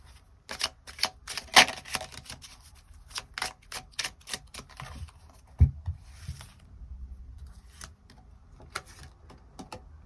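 Tarot cards are drawn from a deck: scattered close, crisp card snaps, slides and shuffling taps come in irregular bursts with quiet pauses between, fairly faint, with no speech.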